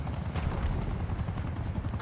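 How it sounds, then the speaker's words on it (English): A Watchdog helicopter closes in during a Call of Duty match, its steady low rotor thrum churning continuously and fairly loud, with no talk over it. "Watchdog helo incoming on your location."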